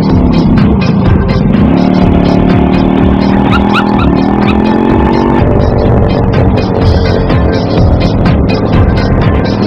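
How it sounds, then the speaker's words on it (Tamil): A Yamaha motorcycle engine with a pendrive starter runs loudly and steadily close by, a continuous rumbling drone with no pause across the whole stretch. "இது ரெண்டையும் கனெக்ட் பண்ணிட்டோம் அப்படின்னா ஈஸியா வண்டி ஸ்டார்ட் ஆயிடும்"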